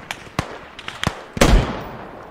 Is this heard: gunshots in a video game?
yes